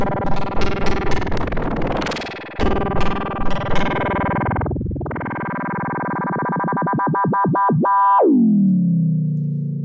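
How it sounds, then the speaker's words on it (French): A Perkons HD-01 drum machine's delay with its internal LFO rate swept, giving distorted, echoing tones that warble, dive and pitch-shift, ending in a smeared downward slide, loud and close with no talk. "il y a un petit LFO interne au delay que je peux synchroniser en appuyant sur le bouton Sync ici et quand je balance du rate, il se passe ça"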